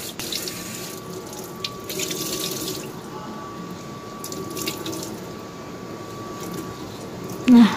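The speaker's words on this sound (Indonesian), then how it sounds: "Terus untuk lapnya sekalian saya bilas ya." A kitchen cloth rinsed under a running tap at a sink, with a steady close stream of water splashing throughout, shifting slightly as the cloth moves, and a brief clunk at the very end.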